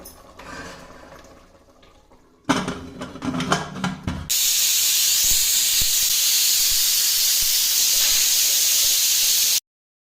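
A pressure cooker cooking mutton releases steam in a loud, sustained hiss for several seconds after some clattering, then cuts off abruptly.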